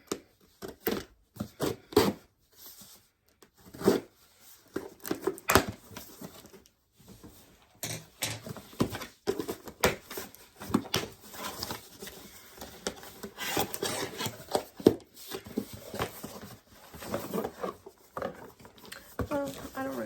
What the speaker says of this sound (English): I'm gonna use a screwdriver to open it.